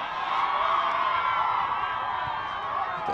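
Crowd at a college soccer match cheers a defensive play, a sustained dense roar of voices and whoops at moderate distance with no break.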